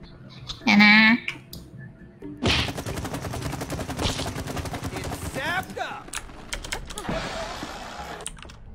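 Rapid bursts of water-gun fire from the video game It Takes Two, a fast clicking, chattering volley running through most of the stretch with a brief loud shot near the start, while a player talks over it.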